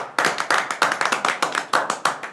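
Hands clap in a quick, even burst of about a dozen sharp, close claps, with no talking, at a casual gathering over a gifted bakery cake.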